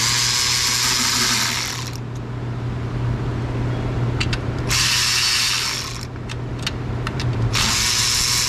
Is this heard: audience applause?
no